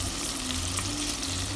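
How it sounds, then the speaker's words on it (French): Onions sizzle and fry steadily in about three tablespoons of hot oil in a saucepan, a continuous dense crackle with a low hum underneath and no voices. "On va commencer par revenir les oignons."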